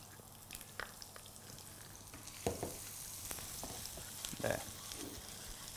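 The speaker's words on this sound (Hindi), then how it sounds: "और इसमें मैं डाल रहा हूं सूखी लाल मिर्च।" Soft crackling sizzle of garlic and dried red chilies frying in hot ghee, with a few louder pops and stirring clatters near the middle and end.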